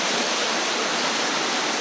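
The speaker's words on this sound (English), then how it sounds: "This is the downstream entrance, or exit, I don't know, resurgence of this little creek that runs through the natural marble bridge." A small creek pours out of a marble cave resurgence beneath a natural marble bridge, making a steady, loud, broadband rush of flowing water with no voices.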